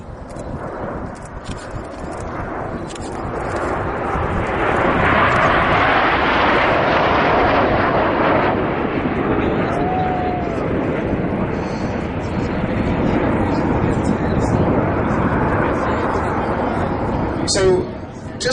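The Red Arrows jets sweep past in Diamond 9 formation at an air show, their engine roar swelling to a loud peak and slowly fading as a commentator keeps talking over the noise.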